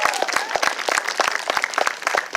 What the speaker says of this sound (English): Let's give Audrey Lord a round of applause.